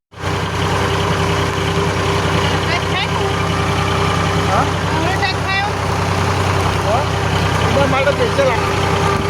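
A farm tractor idles steadily on a rain-soaked rural road, its low, continuous engine rumble loud and close for the whole stretch, with faint voices in the background.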